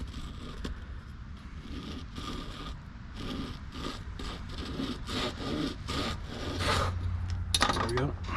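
A small hand saw cuts through the end of a wooden antique-style bass lure in quick rasping back-and-forth strokes, close up, ending with a brief clatter.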